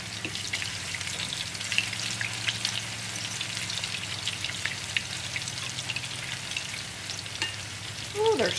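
Zucchini fritters fry in a pan with a steady, dense crackling sizzle throughout, close up and without talk, while rain falls outside.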